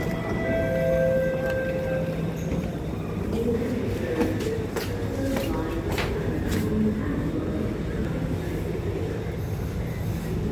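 A Singapore MRT train runs steadily and close by, with a continuous rumble, faint rail clatter and a few brief tones, while people talk at moderate volume over the noise.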